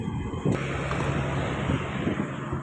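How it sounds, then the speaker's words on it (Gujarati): Steady wind rushing and buffeting against the microphone, a constant broadband roar with a brief gust near the start and no talking. "પવન હવે આજથી નીકળ્યો"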